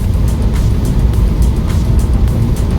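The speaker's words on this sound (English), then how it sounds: "It is a fantastic little car, the Citroen DS3." A Citroen DS3 small car driving, heard from inside as a steady, loud low engine and road rumble that continues evenly throughout with no talking.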